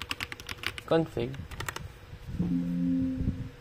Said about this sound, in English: So here we're just going to go to the CMD and type ipconfig.